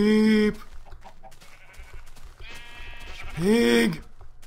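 Two loud, wavering sheep bleats from Minecraft, one at the start and one a few seconds later, with quieter game sounds in between.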